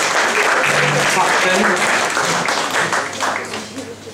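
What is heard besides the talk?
audience applause at a concert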